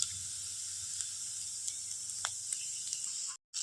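Flour roti pieces frying in a pan give a steady, close sizzling hiss that runs throughout, with a few small crackles and a brief gap near the end.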